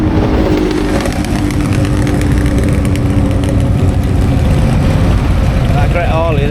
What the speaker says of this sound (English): A few more bikes turning up.